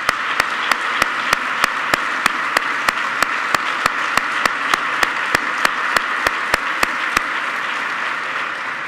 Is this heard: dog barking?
no